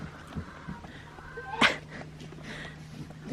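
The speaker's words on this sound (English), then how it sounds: "The cat." A cat on a farm gives a loud, sharp meow midway, with softer mewing around it over a steady low hum, and a person talks quietly nearby.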